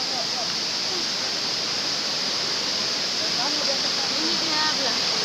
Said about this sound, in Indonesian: Ini air terjun pertama.